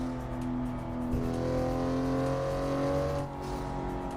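A BMW E60 in the racing game Assetto Corsa drives along with a steady engine drone, its pitch rising and shifting across the whole stretch, heard fairly quietly and without any talk.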